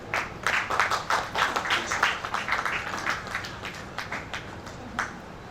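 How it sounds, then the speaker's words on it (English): Applause rings out at the investiture ceremony of a new chairman of a professional institute chapter in Lagos, steady rhythmic clapping from a crowd that stays moderately loud and then slowly thins. "I believe a round of applause can still continue now while this is done"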